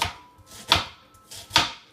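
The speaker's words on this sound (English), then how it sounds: "turn it again the other way and chop those up" Knife chopping an onion on a cutting board for clam chowder: two sharp, close chops about a second apart, each with a crisp blade strike and a faint board knock, with quiet pauses between.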